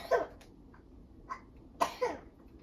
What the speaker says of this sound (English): He also has a cough